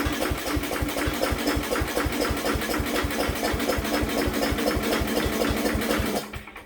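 A Sears Suburban 12 garden tractor engine runs steadily with a fast, regular thumping beat and a buzzy mechanical clatter, loud and close, before cutting off abruptly near the end.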